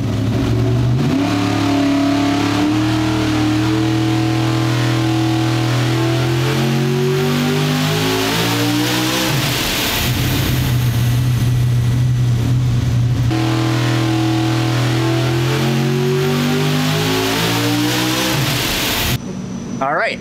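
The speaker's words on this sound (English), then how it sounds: "You can see the little turbo is still spinning there." A turbocharged car engine revs up repeatedly, climbing in pitch and falling back, loud and close, with a whining turbo spinning over the roar; the engine cuts out abruptly near the end.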